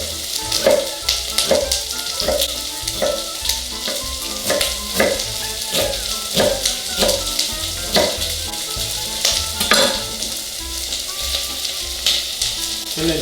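Onion fries in a pan with a steady, close sizzle while being stirred for a New Mexico green chili. Regular scraping strokes of the stirring land about once a second throughout.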